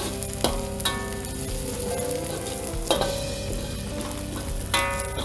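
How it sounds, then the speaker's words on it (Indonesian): Aromatics crackle and sizzle steadily in hot oil as they stir-fry toward crisp golden, with occasional clinks of a utensil against the pan, close and continuous with no talking, ahead of cooking sea snails in soy sauce. "Tumis sampai garing, sampai kekuningan."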